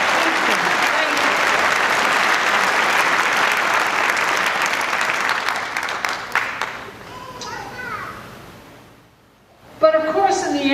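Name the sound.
audience applause at college commencement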